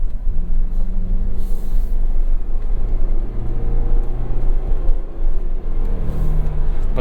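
A 2023 Ford Bronco Heritage with a seven-speed manual running over a rough rallycross track, a loud low engine rumble with bumps and rattles from the rough surface, no talk.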